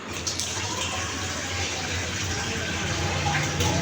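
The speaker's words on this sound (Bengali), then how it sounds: "এখন আমি আর একটু পানি দিয়ে দেব।" Water poured into a pot of simmering beef curry, a steady close gush that runs unbroken for a few seconds with no voices.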